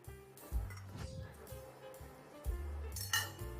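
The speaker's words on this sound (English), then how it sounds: "Now I'll cover it with a lid and leave it for 15 minutes" Quiet metallic clinks and a clatter as a lid is set onto a pot of millet and pumpkin porridge, a few separate knocks of metal on metal spread over a few seconds with soft kitchen noise between.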